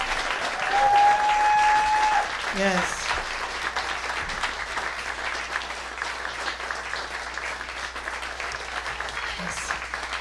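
An audience at a New Orleans jazz piano concert applauds the pianist, with dense, steady clapping that swells early and then holds at an even level throughout, while a voice briefly speaks over it.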